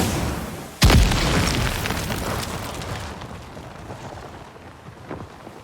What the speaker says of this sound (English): So the blossom reacts to explosions in a really cool way